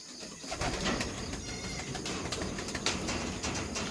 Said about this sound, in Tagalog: Dito sila mga kalapatids ko dyan